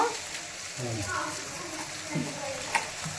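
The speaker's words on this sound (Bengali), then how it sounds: "এখন এই যে লুচিগুলো ভাজা হচ্ছে" Luchi frying in hot oil for a puja offering, a steady sizzle and bubbling with stirring clatter, voices talking nearby throughout.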